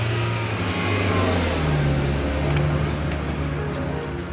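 A car speeding away on a long fast drive, its engine giving a steady loud roar that climbs slightly in pitch before easing, with no voices.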